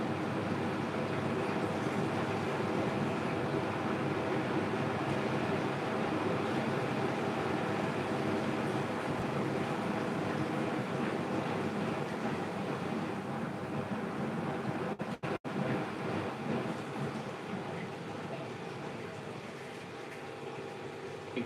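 Hisense WFQP9014EVM front-loading washing machine tumbling a heavy 13.5 tog duvet in its water-filled drum, giving a steady sloshing, churning wash noise that runs throughout, close and fairly loud, with a brief dip near the middle.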